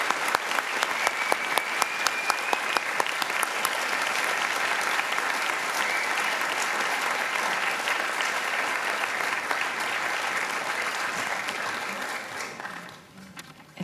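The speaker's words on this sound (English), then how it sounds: "please join me once again in applauding these graduates' achievements" Sustained audience applause for PhD graduates at the OIST graduation ceremony, steady, dense clapping from a large hall that holds for over twelve seconds before tapering off at the end.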